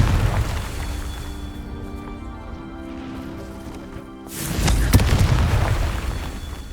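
A Confringo blasting spell detonates in the Hogwarts Legacy video game, a loud boom and burst of crackling debris after a low rumbling lead-up, sustaining a rough roar before fading.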